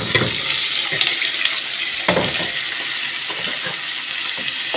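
Rice pours into a pot of hot oil and ghee, giving a close, continuous sizzling hiss with scattered rattling grains and clinks, with no talking.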